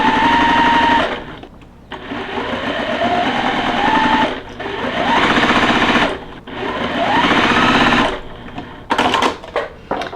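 A sewing machine stitching quilt block pieces together, running in loud sustained bursts of rapid mechanical whirring with brief pauses between seams, close up.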